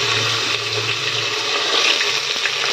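Chopped onions sizzle in a hot pan while a black chickpea curry is being cooked, a steady, loud, close frying hiss that runs without a break and has no talk over it.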